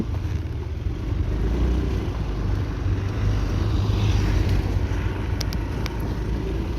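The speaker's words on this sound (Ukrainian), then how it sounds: "Двигун працює ідеально." A Honda Dio JF31 fuel-injected scooter engine runs steadily with a low, continuous drone, close by and fairly loud, with traffic-like rumble in the background and no voices.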